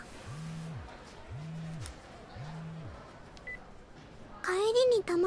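A mobile phone's email notification tone: three evenly spaced identical electronic chime bursts, fairly loud and close, followed by a brief high voice.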